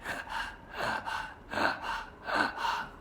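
A voice imitates labored gasping breaths, a rhythmic series of about eight short, harsh, rasping inhales and exhales in quick succession, close and clear with no other sound.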